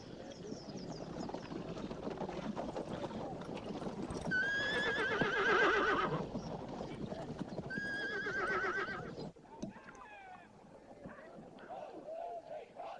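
Horse hooves clip-clop steadily while a Zagale horse neighs in long, loud whinnies twice, in a scene from the 1979 war film Zulu Dawn, with voices and film sound underneath.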